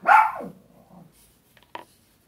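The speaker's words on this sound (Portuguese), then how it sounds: "Minhas cachorras brincando aqui embaixo da minha mesa." Pet dogs playing under a desk give one loud nearby bark at the start, then a few softer growls and whimpers, and two short sharp yips near the end.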